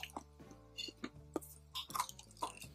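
Someone chews a crunchy microwave-toasted almond, giving quiet, close, irregular crunches and bites over a few seconds.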